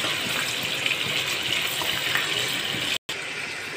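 Boneless chicken fries in hot oil, giving a steady, dense, loud sizzle that carries on without a break, close up, apart from one momentary drop-out.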